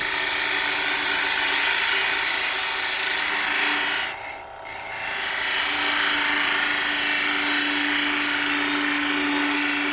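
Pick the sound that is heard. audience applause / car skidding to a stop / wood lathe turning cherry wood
wood lathe turning cherry wood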